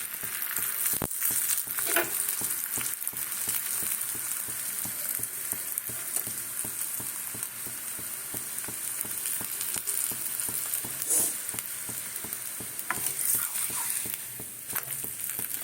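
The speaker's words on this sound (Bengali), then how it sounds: "ধিমে আঁচে ভাজতে হবে" Spinach paratha frying slowly on low heat, giving a steady close crackling sizzle throughout with faint occasional taps and knocks.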